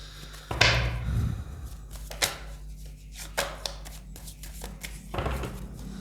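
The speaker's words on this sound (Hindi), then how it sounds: "पहले मैं कार्ड्स निकाल लेती हूँ" Tarot cards riffle and slap as they are shuffled and drawn from the deck, the brisk shuffling coming in short bursts with soft thumps of cards set down between them, close and fairly quiet, with no one talking.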